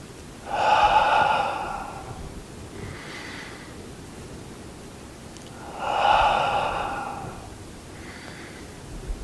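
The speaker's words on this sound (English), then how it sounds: "Breathing in. Breathing out." Slow, deep breathing during a seated tai chi exercise: two long breath cycles, each a drawn-out airy inhale followed by a softer exhale, close and clear, with no talking.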